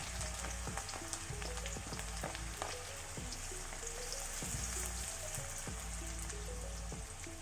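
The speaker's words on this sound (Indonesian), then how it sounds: "Langkah pertama kita tumis terlebih dahulu bawang merah" Shallots sautéing in a pan, a steady crackling sizzle of fine pops over a low background hum, faint and unbroken throughout, with no talking.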